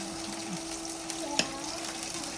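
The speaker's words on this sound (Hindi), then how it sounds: "अब इसको मैं ऑयल में पहले फ्राई कर लूँ" Bitter gourd (karela) peels fry in hot oil with a steady, close crackling hiss and one brief sharper pop partway through.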